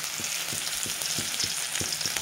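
Chopped ginger goes into hot oil with cumin seeds and two dried chillies. It makes a close, steady frying sizzle with several soft knocks of a spatula stirring in the pan, and no one speaks.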